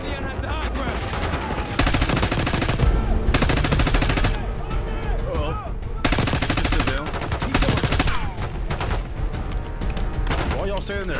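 Constant, loud automatic gunfire and rapid single shots in the Call of Duty Black Ops 6 campaign, layered bursts from several weapons with a few louder surges and almost no break.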